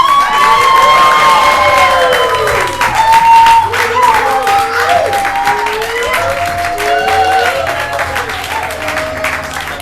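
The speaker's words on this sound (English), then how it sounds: "a huge round of applause for Serial Killer!" An audience at a comedy show bursts into loud applause and cheering, dense clapping with whoops and shouts that stays strong and slowly eases off over about ten seconds.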